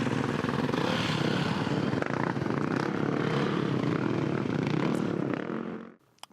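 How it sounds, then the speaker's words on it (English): Dirt bikes riding past, a loud, dense engine roar that holds steady close by and then quickly drops away to near silence at the end. "Oh, got some dirt bikers."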